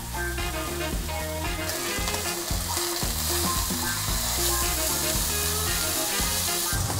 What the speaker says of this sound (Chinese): 调好味之后呢，我们先把这个鹅肝给煎一下。